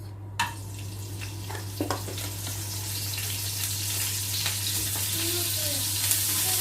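Plain garlic crackles and sizzles in hot oil in a home kitchen pan, a continuous frying hiss broken by scattered clinks and scrapes of a spoon against the pan.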